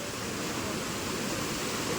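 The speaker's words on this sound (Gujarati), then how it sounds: "અત્યારે અમે પહોંચી ગયા જટાશંકરના રસ્તે પાણી જાય છે જોરદાર" Water rushes strongly along the mountain path to Jatashankar on Girnar during the monsoon, a steady broadband roar close by that holds without a break, with no voices.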